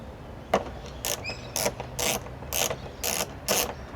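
Screws come out of the glove box panel of a BMW R1200RT motorcycle. A ratcheting tool clicks in a regular run of about eight short, crisp bursts, recorded close and with no voices.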